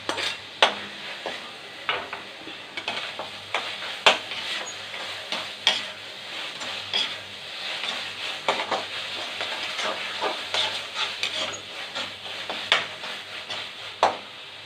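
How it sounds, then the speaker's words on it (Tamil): Potatoes being stirred and sautéed in a pan for a dried fish curry (karuvadu kuzhambu): close, repeated scraping and clinking strokes over a steady soft sizzle, with no talking. "இப்போ வதக்கி வச்சுருக்க உருளைக்கிழங்கு எடுத்து போட்டுக்கலாம்."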